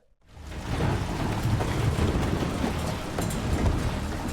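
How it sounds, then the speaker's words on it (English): Heavy rain pours steadily in Seattle with a low rumbling of thunder underneath, starting abruptly and continuing without pause, from the TV series The Last of Us. "Freaking course it's raining."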